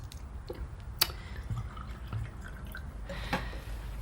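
Someone pours a drink into a glass in a radio drama, a soft, faint trickle of liquid with scattered drips and one sharp clink near the start, alone over a low background hum.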